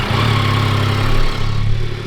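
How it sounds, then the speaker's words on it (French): A Yamaha XSR900GP three-cylinder motorcycle engine with an Akrapovič exhaust idles loudly and steadily close by after starting, with a low, even rumble and a slight dip in the middle. "je vous ai pas démarré la moto, faut vous faire écouter un peu la Krapovic"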